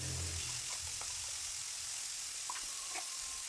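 A paste of ground green peas, green chili and ginger sizzles steadily in hot oil with a pinch of asafoetida for kachori filling. The hiss stays close, with occasional stirring clinks and a faint low thud near the start.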